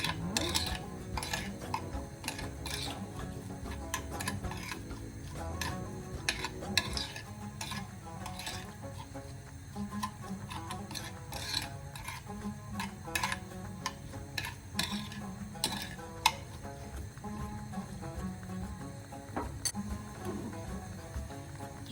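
Spices, salt and lamb seasoning are mixed for a lamb tajine, soft clicks and taps of a utensil against a bowl in an irregular rhythm, fairly quiet and close, without talk.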